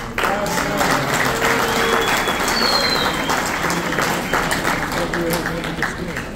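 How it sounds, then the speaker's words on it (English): A school anniversary audience applauds George Rakos at a St. Demetrius celebration, a steady dense round of clapping sustained throughout with crowd murmur and some voices underneath. "we should give him a round of applause"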